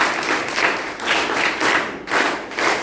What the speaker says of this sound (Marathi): आपल्या पूर्वजांसाठी एकदा दाद देऊया, टाळ्या वाजवूया.